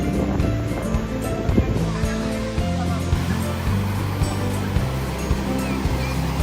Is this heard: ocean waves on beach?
yes